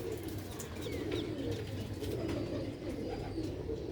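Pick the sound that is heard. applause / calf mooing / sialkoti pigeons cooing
sialkoti pigeons cooing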